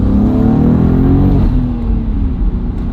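BMW G87 M2 exhaust heard with the windows open, a loud steady engine drone with faint burbles underneath, continuous for a few seconds with no talking.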